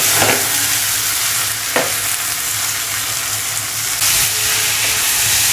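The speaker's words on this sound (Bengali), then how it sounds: "চাল ডালটাকে ভেজে নিব যতক্ষণ না পর্যন্ত চালটা একবারে ঝরঝরা হয়ে আসতেছে" Rice and lentils fry in hot oil with whole cumin and garam masala for vegetarian khichuri, a loud steady sizzle with a few sharp scraping stirs of a spatula in the pan.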